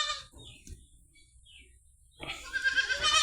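Young Beetal goat kids bleat on a farm, a short thin cry at the start, then quiet before a louder, wavering bleat rises near the end, close by.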